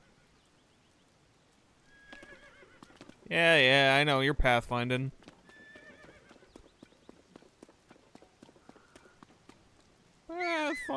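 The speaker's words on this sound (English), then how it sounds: "Horse noise." A horse in the video game Tears of the Kingdom lets out a loud, drawn-out whinny, followed by clip-clopping hooves and a second whinny at the end, with a person talking over parts of it.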